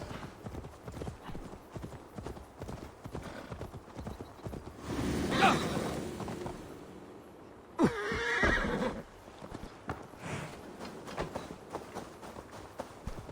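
In Assassin's Creed Valhalla, a horse's hooves clip-clop steadily while the animal lets out two loud, drawn-out neighs, the second sharp and close, amid game ambience.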